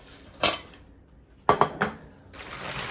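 Ceramic plates clink together close by, a single knock followed by a quick cluster of three sharp clatters.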